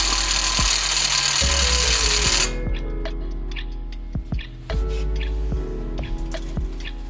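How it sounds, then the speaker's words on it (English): Impact gun working the big wheel bolts while the tires come off a Nissan 4x4 (Xterra/Frontier/Pathfinder) during a hub and wheel bearing job: a loud continuous tool roar for a couple of seconds, then hum with several short sharp bursts. "This CC impact gun is phenomenal. It has made all of these big bolts, taking the tires off, everything very easy."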